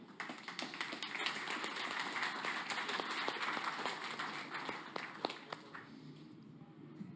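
Warm audience applause at a corporate reverse-pitch event at Connect Day 2022, welcoming speaker Josephine Müller, a steady dense clapping that holds for several seconds and thins slightly toward the end.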